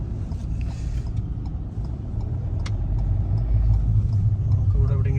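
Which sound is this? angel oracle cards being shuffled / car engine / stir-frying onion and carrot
car engine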